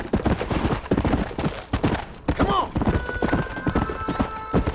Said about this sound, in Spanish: Caballo. Caballo.